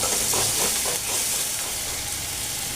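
Garlic paste hits onions frying in hot oil for a Bengali katla fish curry, giving a steady, close sizzle and crackling hiss with faint stirring, no voices.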